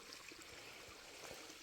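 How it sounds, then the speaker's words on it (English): A stream of cloudy, dirty runoff water flows along the Appalachian Trail, a soft continuous rushing wash that stays faint and steady throughout with no voices. "look at the stream. Boy, it's flowing today, ain't it?"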